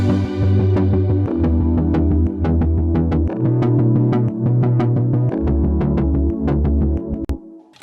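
Layered synth chords, a high air chord and a side-chained triplet bass from a Unison MIDI chord pack play together loudly, the low end pumping and changing notes every couple of seconds, no talking.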